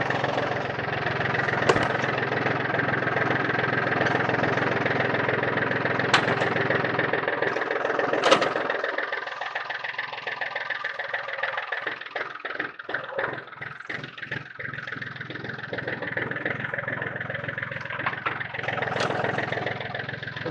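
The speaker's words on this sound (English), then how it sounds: "Let me get the tractor set" Tractor engine idling steadily close by while a post hole auger is set up for drilling pole building post holes, with a continuous rumbling drone and occasional clanks and rattles.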